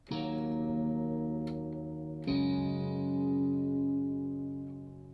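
Two sustained keyboard chords ring out in succession, the second entering midway, full and steady with a slightly processed tone.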